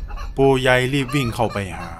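Chickens crowing and clucking loudly in a village as a horror audio-drama effect, a short burst of harsh rising calls, with a narrator's voice speaking over it.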